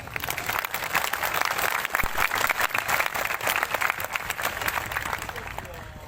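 A crowd at an Islamic religious gathering in Siak, Riau claps steadily for someone's 42nd birthday, a dense, continuous round of applause.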